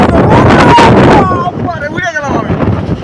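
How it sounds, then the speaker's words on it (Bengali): Strong storm wind buffeting a handheld microphone in a city, a loud roaring rush that eases after a second while someone speaks excitedly over the gusts. "অস্থির বাতাস।"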